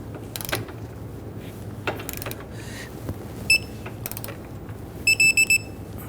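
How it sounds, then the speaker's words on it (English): A torque wrench tightens the rear lower control arm to knuckle bolt on a 2010-2019 Ford Taurus to 196 foot-pounds, giving scattered ratcheting clicks over a low background hum, then a quick run of sharp clicks near the end. "go ahead and torque the control arm to knuckle bolt here to 196 foot-pounds"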